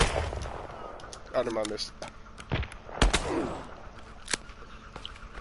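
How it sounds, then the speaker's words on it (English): Gunfire crackles in the survival game The Forest, scattered sharp shots and short bursts at moderate distance, mixed with players talking over voice chat. "Who the fuck is shooting things like crazy"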